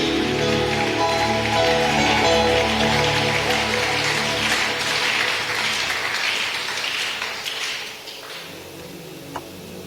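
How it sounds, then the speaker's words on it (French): A church congregation at a Friday service applauds and cheers for Jesus, a loud, dense wash of clapping that holds steady and then gradually thins and fades toward the end. "Est-ce qu'on peut acclamer pour Jésus?"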